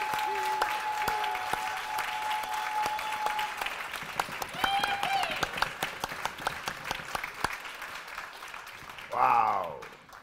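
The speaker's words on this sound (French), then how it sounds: "Faites, s'il vous plaît, un tonnerre d'applaudissements pour nos amis des Lords of the Redstone!" Audience applause at a live show at a venue in Saint-Dié, heard as scattered claps and cheering over steady crowd noise, with a voice calling out near the end.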